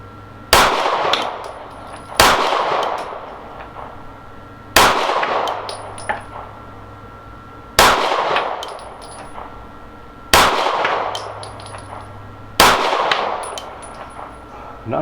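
Pistol shots from a Dan Wesson DWX Compact ringing steel plate targets at an outdoor range: five loud, sharp reports spaced about two to three seconds apart, each followed by a bright metallic clang that rings briefly, with no talk.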